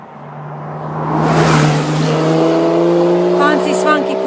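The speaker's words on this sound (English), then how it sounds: "Fancy swanky Porsche just went past me, silver." Silver Porsche approaching and sweeping past on a remote single-track road, its engine swelling from quiet to a loud rushing pass with a steady tonal hum, then holding as it pulls away; a voice speaks briefly near the end.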